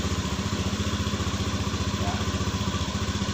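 A Honda Beat motorcycle engine idles steadily up close, a fast even putter running throughout under a brief spoken word.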